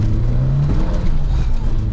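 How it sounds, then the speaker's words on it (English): A 1988 Peugeot 205 GTI hatchback engine revs loudly and close from inside the car on a wet road, a droning low rasp that swells briefly before easing off. "Fizzy engine wants to rev, that's for sure."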